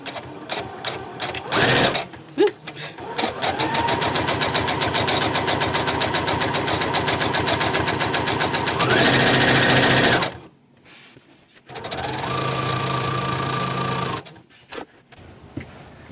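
A sewing machine stitches a cotton travel project bag, running in loud, steady mechanical bursts up close, with a brief pause near the middle and short gaps between runs.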